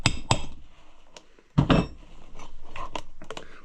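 Sharp hammer blows on metal, a couple of loud clanks followed by lighter taps and scraping, close by with no talking.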